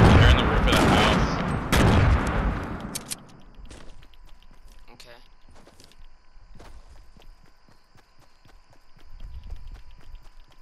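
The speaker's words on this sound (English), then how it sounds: "Where are they shooting?" Gunfire in a Fortnite match comes as a quick cluster of loud, sharp shots at first, then thins out into scattered fainter pops and footsteps against a quiet background.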